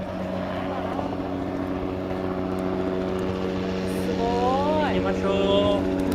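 A helicopter flies over Iguazu Falls on the Argentine side, its engine and rotor making a steady, loud droning hum inside the cabin, with voices faintly audible beneath.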